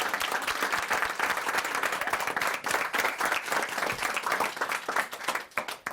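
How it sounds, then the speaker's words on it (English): An audience breaks into applause, close, dense clapping with distinct individual hand claps that keeps going throughout and thins slightly at the end. "I should have asked everyone to give you a round of applause"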